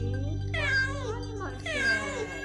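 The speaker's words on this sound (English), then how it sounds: "It's a cat." Two drawn-out, loud cat meows close by, each one rising and then falling, with a short pause between them over a low background hum.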